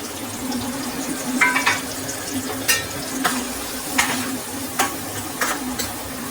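Onions frying with salt and turmeric for a flat-bean and tomato curry, a constant sizzle broken by several sharp scrapes and taps of a spoon stirring against the pan.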